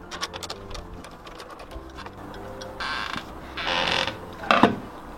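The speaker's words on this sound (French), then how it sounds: "Tout simplement, on revient mettre la vis" A screw being driven in while fitting a WELOCK fingerprint smart lock to a door, heard as close mechanical ticking and creaking turns followed by a few louder grinding bursts.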